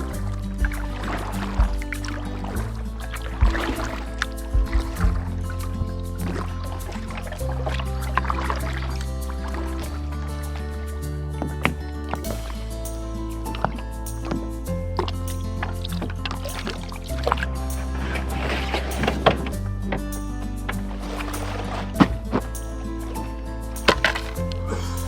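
Canoes are paddled across a lake in early spring just after the ice goes out. Steady paddle strokes and water sounds sit under loud background music for the whole stretch.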